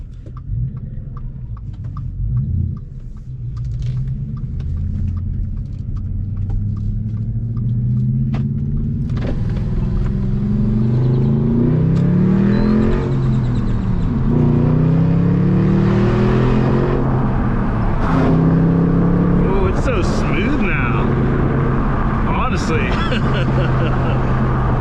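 A car driving and accelerating: an engine hum climbs repeatedly in pitch through gear changes, with rumbling road noise that stays loud and steady.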